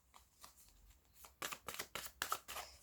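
A deck of playing cards being riffled and shuffled, a few soft flicks followed by a run of quick, crisp riffle bursts, close and quiet with no talking.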